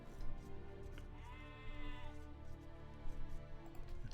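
Sheep bleating in the Age of Empires real-time strategy game, a clear wavering bleat rising in the middle over a busy background of game sounds and music, with another animal call near the start.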